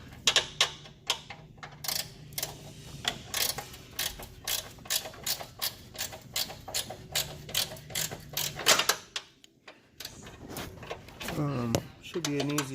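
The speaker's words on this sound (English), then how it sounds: "if you've got a nice little 13 mil ratchet wrench or something like that" A 13 mm ratchet wrench clicks in repeated quick bursts while turning bolts on the frame rail of a 1996-2004 Mustang during an ABS delete block install, close and fairly loud, with a brief voice near the end.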